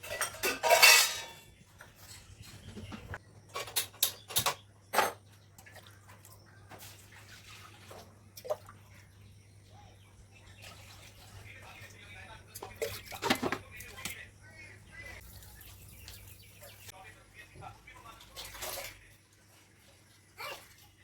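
Red lentils are washed in water in a metal pot at home, with intermittent clinks, scrapes and splashes of a spoon and vessel. A low hum runs underneath, and quiet talk can be heard in the background.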